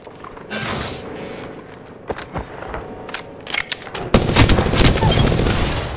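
Apex Legends gunfire rattles in bursts of rapid shots mixed with mechanical clicks and clanks, growing into a dense, loud volley of automatic fire toward the end.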